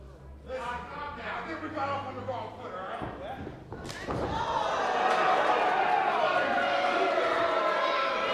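During a wrestling match, a sharp open-hand chop smacks against a wrestler's chest once, under a commentator's voice, followed by a swelling roar from the arena crowd.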